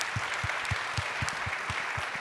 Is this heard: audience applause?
yes